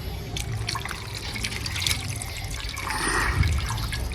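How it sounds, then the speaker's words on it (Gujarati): Water pours out of an overflowing tank in a steady, rushing trickle and splash, close and continuous, swelling slightly toward the end. "જો પાણી જાય"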